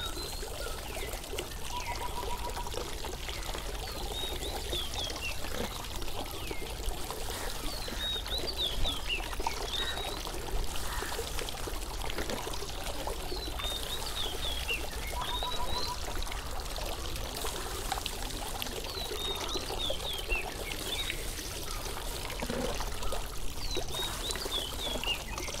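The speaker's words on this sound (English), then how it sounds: "To make the offering complete, we will first wash our feet" Water pours and trickles steadily for washing feet at an outdoor Buddhist offering, with birds chirping intermittently over the continuous splashing.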